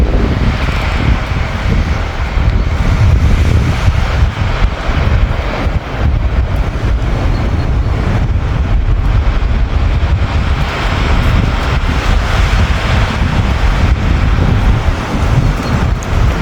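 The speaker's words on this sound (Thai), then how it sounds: "เสียงลมแบบโหมกระหน่ำมา" Strong wind gusts outdoors on a sunny, cold day, blasting the microphone with loud, rumbling buffets that rise and fall without pause and carry no talk.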